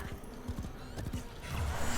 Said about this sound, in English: I'm literally riding a horse in, like, a medieval, feudal-esque kingdom.